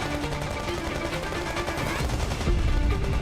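Gunfire effect in a Vietnam War battle scene: dense, continuous rattle of automatic weapons under a rumbling backdrop, growing heavier and louder toward the end with no pauses.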